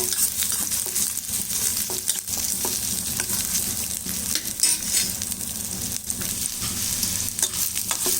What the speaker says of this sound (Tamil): பூண்டு 10 பல், இஞ்சி ஒரு துண்டு, இதை நல்லா ஒன்றா வதக்கிடலாம்